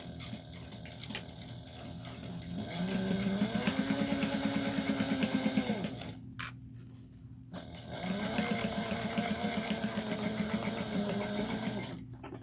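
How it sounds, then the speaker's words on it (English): A sewing machine stitches a crossbody bag piece at a 1/8-inch seam in two separate runs of a few seconds each, with a brief pause for back stitching and handling noises between them. "We're going to stitch this on at 1/8 of an inch and back stitch."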